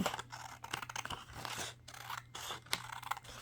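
Repeated crisp snips of dull scissors cutting paper for paper beads, quick irregular strokes close up with short pauses between cuts.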